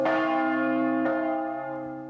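A single church bell rings out with a rich, sustained tone, struck twice about a second apart, each strike leaving a long shimmering decay, close and loud.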